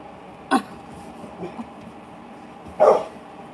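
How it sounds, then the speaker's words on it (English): A dog indoors gives two short, sharp barks a couple of seconds apart, the second louder and fuller, with a soft muffled grunt between them against a quiet room. "Don't bark."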